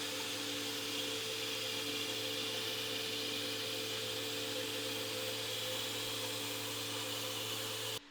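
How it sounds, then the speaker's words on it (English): A shot blasting machine works a warehouse concrete floor, giving a steady, loud, roaring whine with a constant hum that runs unbroken until it cuts out at the very end. "So this is the shot blasting going down."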